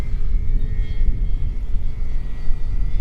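A Dynam Tucano RC model airplane cruises at about half power with its gear up in gusty crosswind, giving a steady, moderately loud motor drone over a low rumble.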